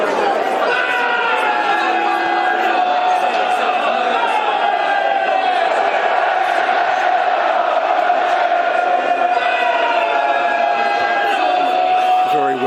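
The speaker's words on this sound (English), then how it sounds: "that is a club-sponsored chant" A football crowd at Bournemouth versus Millwall chants in unison, a loud sustained roar of many voices holding drawn-out tones, with chatter and shouts mixed in, continuous across the stretch.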